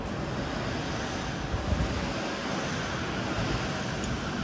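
Coolant draining from a diesel engine, heard as a steady, broad rushing hiss of liquid that runs unbroken throughout, close by and moderately loud with no talk.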